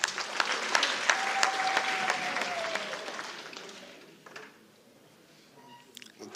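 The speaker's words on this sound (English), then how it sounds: "Let's clap hands for Vembe." Applause from delegates of the Vembe region at a SADTU Limpopo provincial general council meeting, a dense crowd clapping loudly for about four seconds, then fading to a quiet hall with a few scattered claps at the end.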